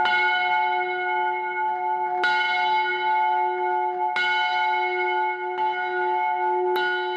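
Church bells of Saint-Nicolas ring in a musical pattern set by artist Martin Messier, sounding every quarter hour in Caen, France. Loud, sustained resonant peals with fresh strikes about every two seconds, heard alone.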